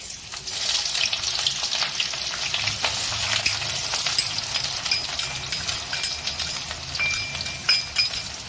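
Chopped onions fry in oil in a pan with bay leaves, a loud, dense sizzle that holds steady, broken by light clinks and stirring scrapes, close up and with no one talking.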